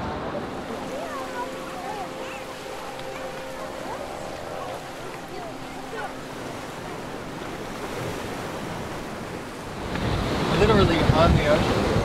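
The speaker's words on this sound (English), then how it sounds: "Literally on the ocean." Ocean waves wash steadily with gusting wind buffeting the microphone out on the open sea, the surf swelling louder and closer in the last couple of seconds.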